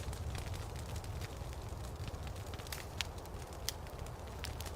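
A crackling fireplace plays faintly and steadily, soft irregular pops and snaps over a low continuous hiss, with no voices over it.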